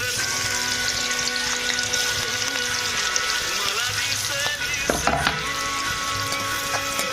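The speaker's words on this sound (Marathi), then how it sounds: "आपले तेल टाकलेलं आहे आता कांदा टाकूया" Onion frying in hot oil with ground garlic and spice paste, a continuous loud sizzle with clinks and stirring noises, no speech heard.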